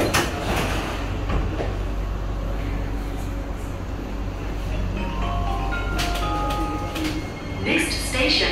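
Aboard a C151A metro train between City Hall and Raffles Place, the doors slide shut with rising chime tones near the end, over a steady rumble of cabin noise and a door announcement.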